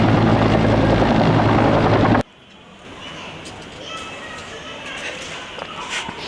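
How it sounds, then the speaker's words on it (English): An army helicopter rotor roars loud and close, with a dense steady wash for about two seconds before cutting off abruptly, leaving faint distant outdoor rumble and scattered noises. "This is army helicopter"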